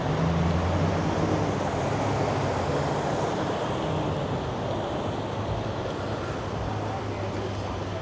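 Black Creek flowing beside a suburban drive in Toronto's North York, a steady broadband rush of water that stays even for the whole stretch, with low traffic rumble from nearby roads underneath.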